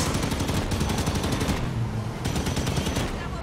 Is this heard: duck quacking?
no